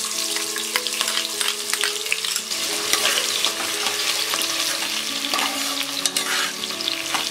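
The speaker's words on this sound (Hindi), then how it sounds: "जीरा फ्राई होने के बाद डालेंगे ये अनियन" Onions go into hot oil with fried cumin seeds for a vegetable pulao, giving a steady, close sizzle with crackly spitting bursts and occasional stirring, over faint background music.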